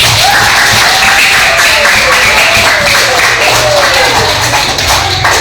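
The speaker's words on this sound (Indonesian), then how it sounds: "Oke, bisa kasih tepuk tangan." A classroom of primary school children clapping together, a dense, loud, continuous burst of hand claps filling the room with some shouting voices mixed in.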